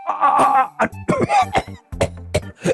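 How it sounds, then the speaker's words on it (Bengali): A king in a Gopal Bhar cartoon coughs in a quick series of hoarse, voiced coughs and throat-clearing bursts, close and fairly loud, with no other sound. "মহারাজ আপনার কাশি হয়েছে"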